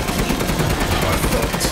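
Rapid cannon gunfire in the game Resident Evil Village during a frantic final boss fight, a dense continuous barrage of booming shots filling the whole short stretch.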